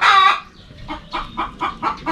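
A chicken clucks close by: a loud squawk, then a series of short, evenly spaced clucks.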